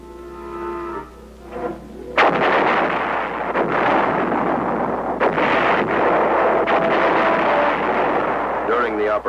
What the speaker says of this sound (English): massive artillery was employed